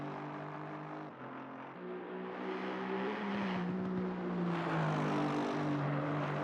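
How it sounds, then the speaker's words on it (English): An Aston Martin V8 race car passing at Laguna Seca, its engine note rising and shifting as it sweeps by, loud and droning with a steady roar throughout. "Lovely sound of the Aston Martin V8 as it goes past us here"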